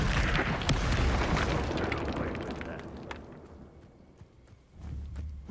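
Fiery Incendio spell blast in Hogwarts Legacy: a loud booming, crackling burst that fades over a few seconds, then another rumbling hit rises near the end.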